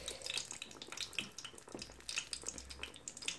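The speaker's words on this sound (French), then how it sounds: "Ici, j'ai l'huile bien chaude. Je vais les tremper comme ça. Je les laisse dorer dans un côté." Nutella-filled beignets fry in well-heated oil, giving a soft, continuous crackling bubble with small pops throughout, fairly quiet and heard alone.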